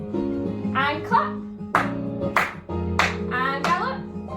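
Sharp hand claps ring out in a children's ballet class, several distinct claps spaced between an adult's sung or spoken counting instructions, close and clear.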